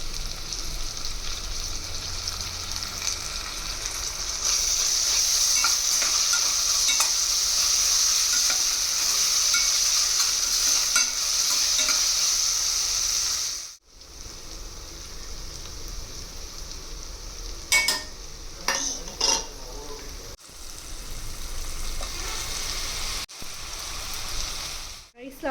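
Ginger garlic paste stirred and fried in a pan, a steady sizzle with scraping stir strokes running for several seconds before the frying drops away to quieter kitchen noise and a few clinks.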